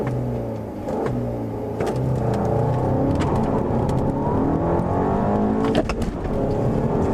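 A 2013 Volkswagen CC R-Line accelerates hard from about 3,000 RPM, its engine note climbing steadily as the turbo spools up, loud and continuous throughout with no talking.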